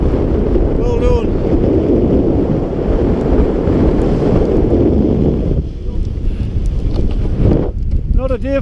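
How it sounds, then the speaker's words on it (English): Heavy wind roars and buffets the microphone on a cold, damp mountain summit in Galloway, loud and constant, with a brief voice breaking through now and then. "Very windy and cold up here and damp."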